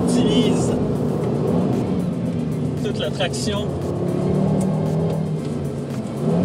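Audi RS 3 with its torque-splitting rear differential drifting on a race circuit, a steady loud engine rumble with shifting pitch and tire scrub as the car slides, under a voice talking from inside.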